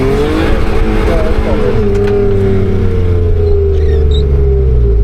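A motorcycle riding on the MotoPark Toruń race track: a loud, close, sustained engine drone whose pitch sinks steadily as the bike goes past.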